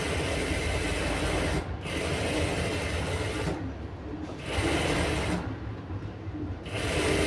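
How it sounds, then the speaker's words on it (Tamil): A sewing machine runs a long stitch around a sleeve, with a steady close mechanical whirr broken by three short pauses as the fabric is repositioned. "இதுலேயும் சுற்றி லாங் ஸ்டிச் போட்டுக்கலாம்"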